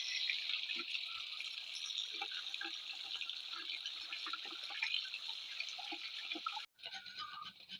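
Water runs from a tap over peeled sweet potatoes in a sink, a steady close splashing stream with small drips and knocks, then the flow cuts off briefly before resuming.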